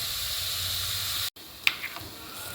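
Onions with half a teaspoon of salt sautéing in a cooking pan give a steady, close sizzle. The sizzle cuts out briefly, then returns with a couple of sharp clicks from stirring.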